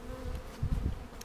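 Honey bees buzz in a low, steady drone during a hive inspection, close and fairly soft, with a slight swell partway through and no voices.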